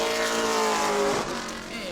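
A Pro Late Model race car roars past at New Smyrna Speedway during qualifying, its loud engine note sweeping down in pitch as it goes by.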